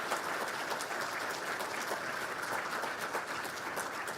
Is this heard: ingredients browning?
no